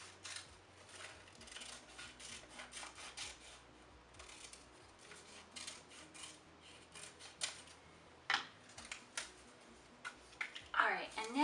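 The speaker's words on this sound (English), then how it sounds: "Now I'm going to cut the light blue piece off of my paper pattern." Paper scissors cut a paper pattern for a felt rainbow craft, with quiet snipping and rubbing strokes repeating irregularly, close but faint, and a few louder cuts near the end.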